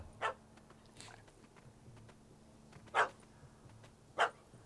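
A dog in The Witcher 3 barks at a cat it has chased up a tree: three short, sharp barks spaced over a few seconds, moderately loud against a quiet in-game background.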